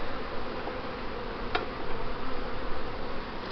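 Honey bees buzz steadily around an open hive with new foundation frames, a dense continuous drone throughout with one brief sharper buzz passing close midway.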